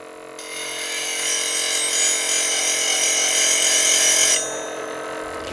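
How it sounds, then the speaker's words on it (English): A grinding wheel hones the bevel of an oval skew chisel held in a jig, a bright, close, sustained rasping whine over the motor hum for about four seconds, then it eases off as the tool is lifted. "we lightly touch the tool to the wheel"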